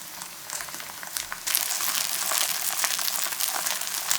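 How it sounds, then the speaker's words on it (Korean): Chive and potato pancake batter spread thin in plenty of hot cooking oil, frying in a pan with a soft, steady sizzle and crackle that grows a bit louder after a moment. "지글지글 바삭하게 구워 고소한 풍미를 끌어올려줍니다"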